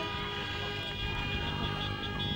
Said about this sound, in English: There it is, the siren